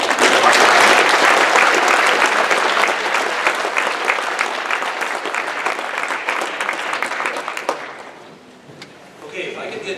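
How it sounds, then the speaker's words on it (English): At a 2016 FFA banquet, the audience applauds proficiency award winners: loud, dense clapping that thins out and fades to near quiet in the last couple of seconds, with a voice faintly present. "Let's give our proficiency winners one more round of applause."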